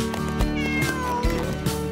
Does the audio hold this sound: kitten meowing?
yes